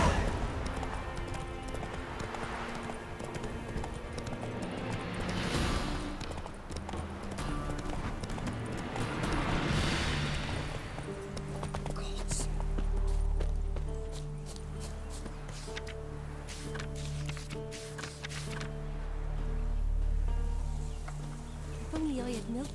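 Hooves of the horse Roach in The Witcher 3 clip-clopping in a steady rhythm, running then slowing to a walk over ground, with game music and ambience underneath.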